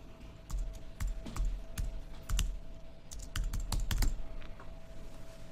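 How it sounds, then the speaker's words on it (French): Keys clatter on a computer keyboard as random text is typed, short crisp clicks in uneven clusters, close and distinct over a quiet room with a faint steady hum. "Et je vais taper n'importe quoi."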